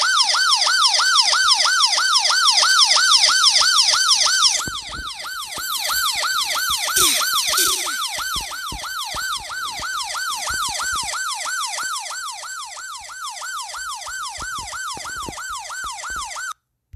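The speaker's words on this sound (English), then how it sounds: "but there's the siren right there." A security alarm siren inside a house in the Roblox game, a loud rapidly wailing electronic tone that repeats steadily for the whole stretch, with faint clicks underneath.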